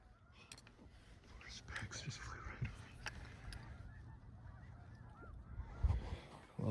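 Specklebelly geese honk as they fly overhead through thick fog in Northern California, with scattered calls growing louder toward the end over light outdoor ambience.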